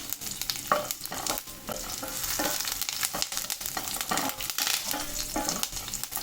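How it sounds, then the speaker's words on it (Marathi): Curry leaves, cumin seeds, mustard seeds and garlic fry in hot oil for a bottle gourd dish, giving a steady close sizzle with crackling pops and occasional stirring scrapes, no voice over it. "कढीपत्ता पण चांगला तेलात भाजून घ्यायचा"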